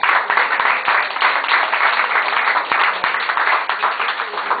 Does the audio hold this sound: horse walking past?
no